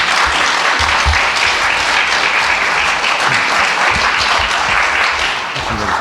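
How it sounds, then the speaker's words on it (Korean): Dense, steady applause from a large church congregation at a retreat, loud and continuous for the whole stretch, with a few low thumps underneath. "박수로 좀 환영해 주십시오."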